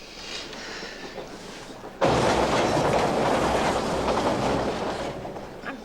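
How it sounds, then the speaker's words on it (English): A train rolls steadily along the rails with a continuous rumbling clatter, starting quieter and swelling abruptly to a loud, sustained roar that carries on without voices. "This is one of the nicest train rides I've ever had."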